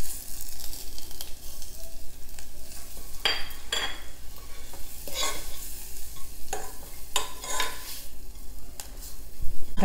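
Freshly ground pepper, cumin and curry-leaf powder goes into sizzling tamarind-free tomato rasam, with crackling frying under repeated stirring scrapes and spoon clinks that come in short bursts.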